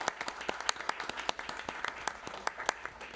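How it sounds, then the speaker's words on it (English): Scattered applause at a city council meeting, a small audience of individual claps heard as distinct sharp pops in an uneven rhythm, fairly quiet and thin rather than a full ovation. "Applause is appropriate."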